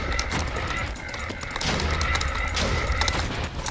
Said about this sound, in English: you gotta shoot people with your pig explosions